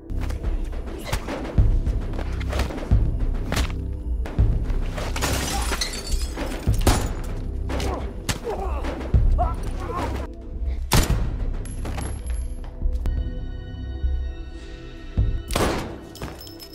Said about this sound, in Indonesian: Mendengar suara tembakan, Fritz dan 2 bodyguard si manajer perusahaan minyak langsung melakukan perlawanan